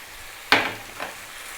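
Onions cooking in a pan for a lamb curry, with a single loud sizzling burst, probably from a stir, then a softer second swell over a faint frying hiss. There is no talking.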